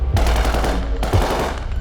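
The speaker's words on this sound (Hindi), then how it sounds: "एक दिन अरूबे के घर को चारों तरफ से घेर लिया जाता है, उस पर गोली चलाई जाती है" Loud, sustained gunfire strikes a house surrounded on all sides. Dense rapid shots run throughout, with two sharp bursts close to the listener and no voices.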